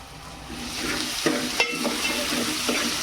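Onion and tomato cooking in a pan, with a steady sizzle and a few sharp stirring scrapes and clicks of a utensil against the pan, close and fairly loud.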